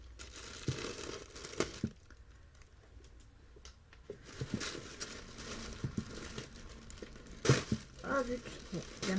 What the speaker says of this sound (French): Je déballe tout ça et je vous montre.